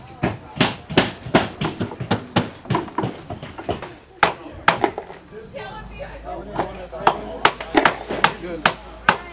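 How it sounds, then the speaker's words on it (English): Repeated hammer blows driving nails into wood siding, sharp close knocks in irregular bursts with short pauses between runs, some lighter taps and metallic clinks mixed in. "some people that had never hammered nails that get to hammer nails now"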